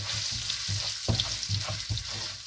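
Asafoetida and lentils fry in hot oil with a steady, close sizzle, broken by a few stirring scrapes and bursts of louder crackle.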